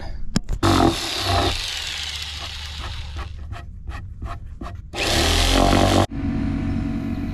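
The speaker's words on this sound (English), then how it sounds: "So I'm gonna get my jigsaw out and make a cut." A jigsaw cutting a wooden board gives a loud, close, buzzing rasp that starts and stops in bursts, with a couple of sharp knocks at the start and a harsher stretch near the end.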